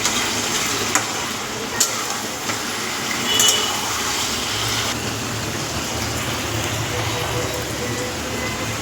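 Papaya pieces and spices frying in a pan, a continuous close hiss of sizzling with a few sharp clicks from stirring, steady throughout.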